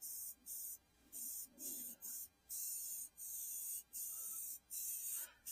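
Repeated bursts of spray paint hissing from a can onto a welded bench, about eight short sprays in a steady rhythm with brief pauses between, close and clear.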